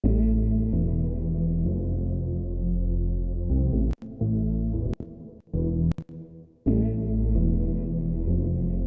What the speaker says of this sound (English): I'm adding a delay as well, you know, just to kind of give a bouncy feeling.